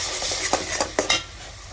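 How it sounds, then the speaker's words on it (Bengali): Bottle gourd tipped into spice paste frying in a pan, a short burst of sizzling with several sharp clatters and scrapes of stirring, close and fairly faint. "এখানে আমি লাউগুলো ঢেলে দিব মশলাটা কষানো হলে"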